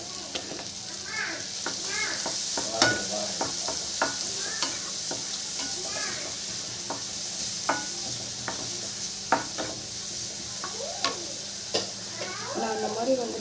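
Cumin, onion, a green chili and curry leaves sizzle in hot oil in a pan while being stirred, a constant frying hiss broken by frequent spatula scrapes and light taps, with a voice heard faintly now and then.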